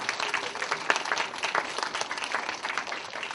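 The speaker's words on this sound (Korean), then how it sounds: "우리 찬양팀을 위해서 격려의 박수 뜨겁게 하겠습니다" A warm round of applause from a church retreat congregation at Gangdong Onnuri Church's Promise U retreat, honoring the worship team: steady, dense clapping from many hands, fairly close and even throughout, with no talking over it.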